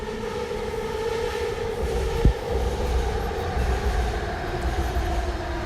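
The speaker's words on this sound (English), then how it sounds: "every few minutes the trains pass by" A train passes overhead by a city park at night, a loud steady rumble with a droning hum sustained throughout, plus one brief sharp clack midway.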